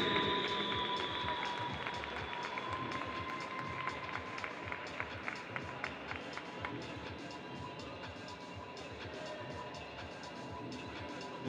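Audience applause at a bodybuilding and fitness competition in Mexico, sustained clapping that is faint and distant, holding steady throughout.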